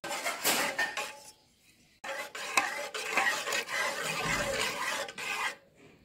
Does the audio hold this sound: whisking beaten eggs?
yes